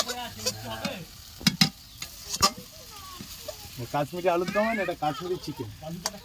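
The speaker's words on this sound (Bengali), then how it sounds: "জামাই এখন চিকেন রান্না করছে" Chicken frying and being stirred in a pan over a stove, with a steady sizzle, a few sharp utensil knocks against the pan, and people talking over it.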